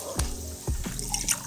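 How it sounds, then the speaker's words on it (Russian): Water poured in the Toca Life World game: a few short, bright liquid drip and splash sounds at a moderate level, with no talking over them. "Я налила воду"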